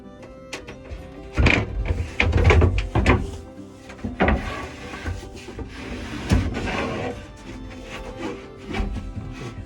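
A plywood camper bed frame is flipped over and shoved into place, giving hollow wooden thunks, knocks and scraping rubs, louder early on, then quieter shuffling.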